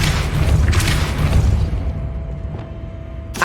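Depulso spell cast in the video game Hogwarts Legacy, a loud booming magical blast with a rumbling low burst that fades away, ending with a short sharp crack.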